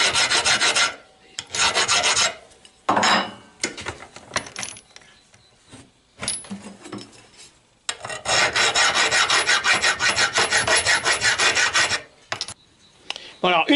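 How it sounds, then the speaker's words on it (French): Hand file rasping across the chrome plating of a Citroën Traction 11B trunk handle clamped in a vise, with loud, repeated back-and-forth strokes in bursts and short pauses, followed by a long steady run of rhythmic filing close by. "je les coince dans un étau, et je vais... Voilà, surfacer la partie chromée."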